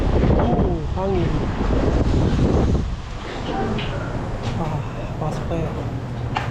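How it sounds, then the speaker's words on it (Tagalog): Cold Canadian wind gusts buffet the microphone outdoors with loud, rough rumbling that eases slightly partway through, while a voice is briefly heard underneath. "Oh, hangin."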